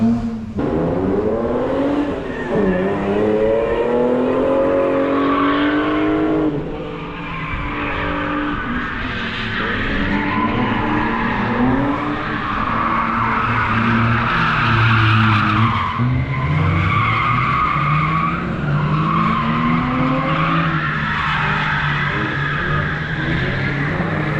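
Two BMW E39 cars, including a 520i, drift around a track at Słomczyn, tires squealing in long wavering screeches over revving engines, loud and close, sustained throughout with rising and falling pitch.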